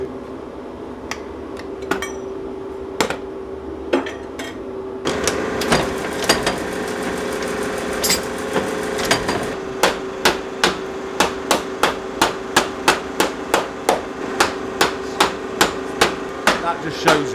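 A hammer whacks the soles of brass wire boots: a few scattered knocks at first, then a fast, regular run of sharp, close, hard strikes over a busy workshop background.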